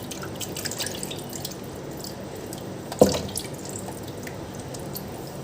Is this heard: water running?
yes